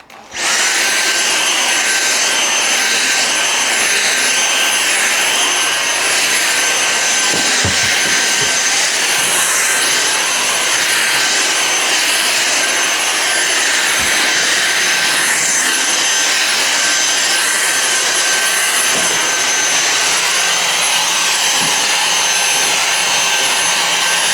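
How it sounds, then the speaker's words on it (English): A vacuum cleaner runs steadily while hoovering during a home declutter and tidy, giving a loud, continuous high whine with a few brief bumps as it moves, with no talking. "I'm going to finish hoovering"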